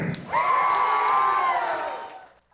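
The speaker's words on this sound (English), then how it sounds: "with fans cheering on their favorite wrestlers throughout the night" A crowd at a local wrestling event in Lloydminster lets out a loud, sustained cheer with a strong whooping voice on top, swelling quickly and holding for about two seconds before fading.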